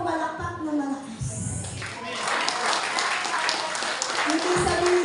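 A church congregation at a Sunday worship service claps loudly for several seconds, a dense burst of hands that builds after a voice and runs on beneath talk.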